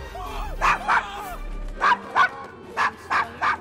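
Dog barking in Assassin's Creed Syndicate: six or seven sharp, close woofs, paired in quick doubles with short gaps between them, loud over a low rumbling game soundscape.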